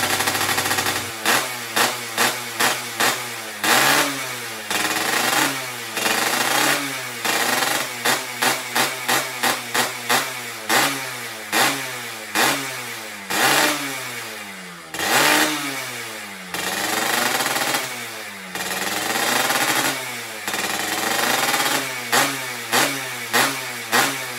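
The restored Yamaha F1ZR motorcycle engine is revved during a test, with loud, close throttle blips in quick repeated bursts and a few longer rising revs that cut sharply back to idle.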